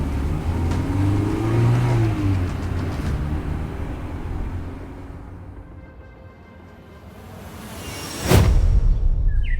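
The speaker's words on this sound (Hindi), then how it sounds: "रोहन ने गाड़ी आगे बढ़ा दी।" A car pulls away, its engine rumbling and revving before easing off and fading, followed by a sharp loud burst near the end, heard with no talk.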